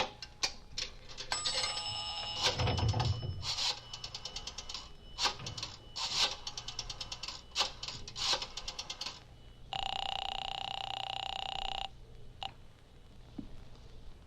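A rotary telephone in a drugstore phone booth is dialed, a run of rapid ticking clicks in bursts, followed by a steady ringing tone on the line, fairly quiet with no voices.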